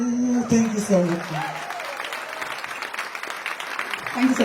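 An audience at a film awards ceremony in Arunachal breaks into applause, loud and sustained for a few seconds, with a host's voice at the start and end.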